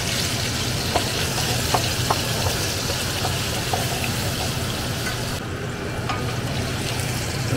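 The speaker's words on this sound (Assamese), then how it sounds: "মাংস বনাই আছো" Meat frying in a pan with onion, ginger and tomato, a loud continuous sizzle with spoon scraping and stirring clicks throughout, close and steady, with no voices.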